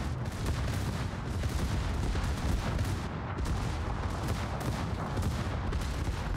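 Continuous heavy gunfire and booming cannon shots from a tank battle video game, dense and loud throughout with no break in the barrage.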